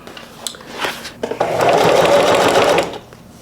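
A sewing machine stitches vinyl at its longest stitch length in a loud, steady burst of about a second and a half, preceded by a few clicks and handling sounds.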